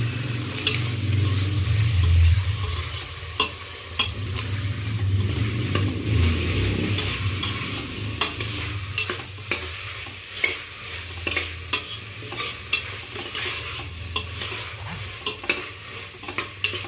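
Sliced mushrooms stirred and frying in a pot for homemade hotel-style mushroom donne biryani, a steady close sizzle broken by repeated scraping clicks of a spoon against the pan.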